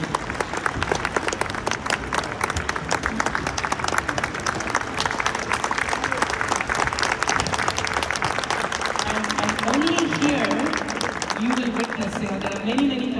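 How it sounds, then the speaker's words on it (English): An audience rises in a standing ovation, sustained loud applause filling the space as a dense, steady crowd clapping throughout, with a few voices heard beneath it. "let's give him and his entire team a huge standing ovation"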